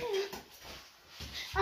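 A pet dog whimpers and yips in a home, with high thin whines close by, mixed in with people talking.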